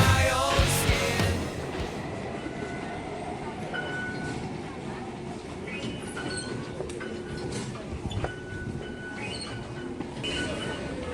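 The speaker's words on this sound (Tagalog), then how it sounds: "Sasakay tayo ng red line na MRT going to Jiantan Station." A Taipei MRT Red Line train moves at Taipei Main Station with a continuous metallic rumble, clacks and occasional thin wheel squeals, while faint voices murmur in the station.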